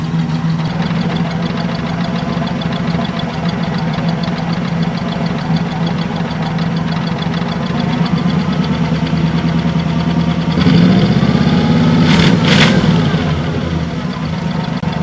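An old Lincoln Continental, abandoned 32 years with rat's nest and crud in the exhaust, runs with a loud steady low rumbling idle and knocking, the engine surging briefly near the end.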